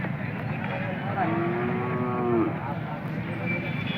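A single long, low moo from a bull rises over a busy outdoor hubbub of voices and engine noise at a crowded bull market in Pusegaon.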